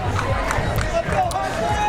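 Crowd noise fills a pickleball grandstand at a Major League Pickleball match in Mesa, a steady, loud, fired-up murmur of many voices with scattered shouts throughout.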